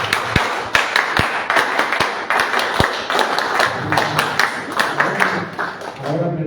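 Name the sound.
applause from the audience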